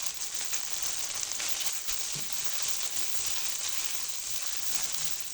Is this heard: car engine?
no